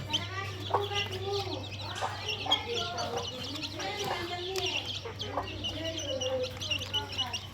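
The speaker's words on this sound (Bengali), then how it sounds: "আরও 3টা মুরগি আছে, 4টা মোরগ হচ্ছে, মোট 10টা।" Backyard native chickens and roosters cluck and murmur close by in a steady, overlapping chorus, with a low steady hum underneath and no talk.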